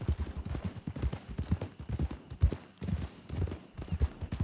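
Horse hooves clip-clop steadily during a ride in Red Dead Redemption 2 roleplay, a quick, continuous rhythm of close, fairly loud hoofbeats that runs throughout.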